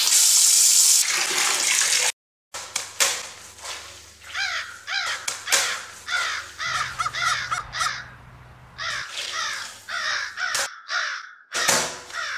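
Many crows caw loudly and repeatedly close by in quick overlapping bursts, with a steady running-water hiss beneath and short gaps of silence.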